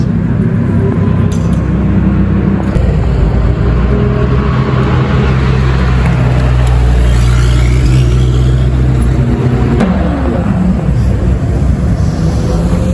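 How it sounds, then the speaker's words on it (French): A Lamborghini Huracán STO arriving in the pit area at the Le Mans circuit, a loud, steady low engine rumble with a swelling whoosh midway as it nears and passes. "Là, il y a la STO qui arrive."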